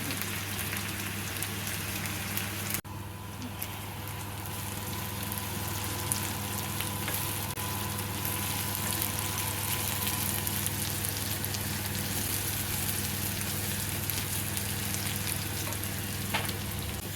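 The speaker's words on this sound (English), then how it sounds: "Frying the carrot, the onions is done, so that is the carrot there." Carrots and onions sizzle steadily in a pan for Nigerian carrot cashew nut rice, a constant close crackling hiss with a single brief knock early on.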